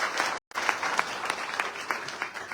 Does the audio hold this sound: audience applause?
yes